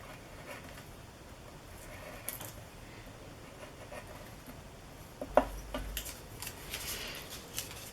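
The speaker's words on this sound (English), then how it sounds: "you can cut right on it. My preferred way of fussy cutting" Scissors snip through paper, fussy cutting on a Tim Holtz craft mat, soft close-up snips and rustles in an uneven rhythm over a steady background hiss, with no talk.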